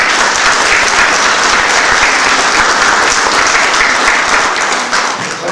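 An audience at a gathering applauds to thank a man who has been asked to stand, a loud, full and continuous roar of clapping that stays steady and tapers slightly at the very end.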